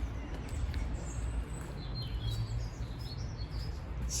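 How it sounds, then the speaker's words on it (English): Spring birdsong outdoors, light chirps and tweets scattered through the clip over a steady low rumble of background noise, faint and somewhat distant. "Beautiful bird song about today."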